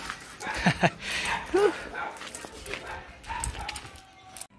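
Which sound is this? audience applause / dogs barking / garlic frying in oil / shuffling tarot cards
dogs barking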